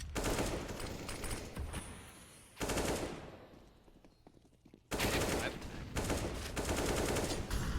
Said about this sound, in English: That is a shot from DanKing.